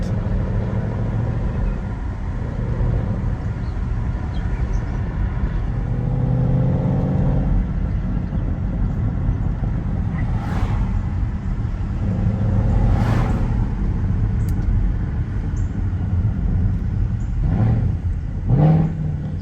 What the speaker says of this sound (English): Kid just loves the rev matching.